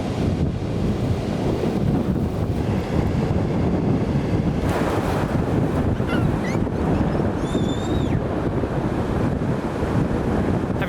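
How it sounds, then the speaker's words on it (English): Strong coastal wind buffets the microphone while waves surge and wash continuously on the shore at Peniche, Portugal, a loud, dense roar throughout with a few faint bird calls near the end. "it's much windier than I thought it was going to be"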